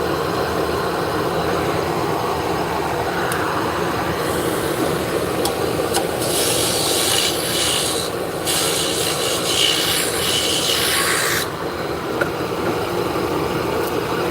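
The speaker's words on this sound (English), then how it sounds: "I'm gonna burn a line in." Wood spinning on a wood lathe gets a line burned in, a steady friction rasp swelling louder in the middle over the constant hum of the running lathe, with no talking.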